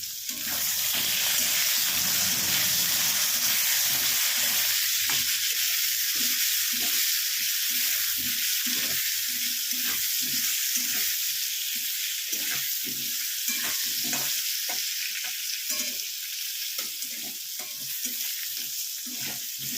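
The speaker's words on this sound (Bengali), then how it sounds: "না ভাপিয়ে আমি একটু ভেজেই নিলাম।" Vegetables that were long kept in the fridge are lightly fried in a pan, giving a loud, steady sizzle, then rhythmic scraping stirs and clicks of a spatula against the pan.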